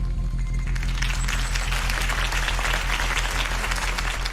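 A crowd in a Batman video game breaks into loud, sustained applause after a campaign speech for Harvey Dent, with dense continuous clapping and a steady low hum beneath it.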